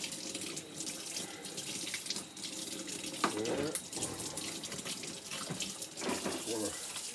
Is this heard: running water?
yes